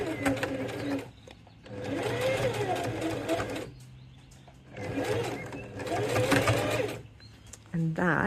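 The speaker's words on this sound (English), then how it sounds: "I am going to continue to edge stitch, and I'm going to reverse as I go across it, and then keep stitching and reverse" Sewing machine edge stitching and reversing across a tote bag strap, close whirring runs of stitching broken by short pauses as direction changes, under a voice talking.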